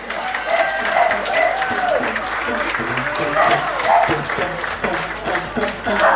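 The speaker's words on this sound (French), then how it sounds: "J'accueille pour la première candidate, Nancy, qu'on peut applaudir." Audience clapping for the first contestant at an outdoor guinguette pageant in Harmignies, steady applause with some rhythmic clapping and cheering voices, music or talk mixed in underneath.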